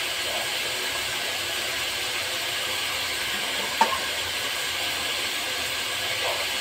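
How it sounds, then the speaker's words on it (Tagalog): Meat and vegetables sautéing in a pan, a steady soft sizzle and hiss with one brief clink of a utensil partway through. "May karne akong ginisa, tapos gulay"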